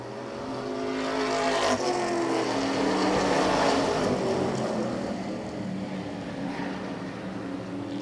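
Modified race cars roar around an oval track, a dense, continuous engine drone from several cars swelling and fading as the pack passes, with no talk over it.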